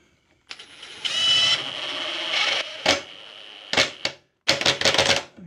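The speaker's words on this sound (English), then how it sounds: "and I'll just drive the screw in." A screw being driven into a lathe-driven belt sander prototype, heard as several short bursts of whirring power-driver buzz separated by pauses, close and fairly loud, with no talking.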